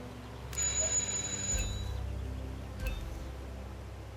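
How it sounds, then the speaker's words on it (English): A doorbell chime rings twice in Hitman 2, clear tonal strikes over a low steady ambient hum with no talking. "just ring the doorbell."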